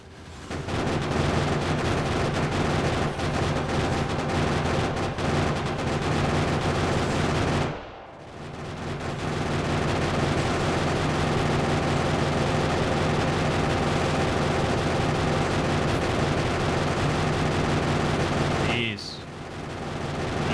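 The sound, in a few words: gun turrets firing at enemies in video game Factorio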